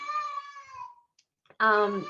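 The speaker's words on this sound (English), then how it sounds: "my cat again, sorry about that" A house cat meows twice: a long, drawn-out cry, a brief pause, then a second loud, close meow that cuts in during a break in a home online talk.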